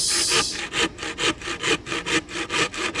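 A handsaw cuts wood for an animal cage in quick, even strokes, roughly ten rasping passes in a steady rhythm, up close and alone.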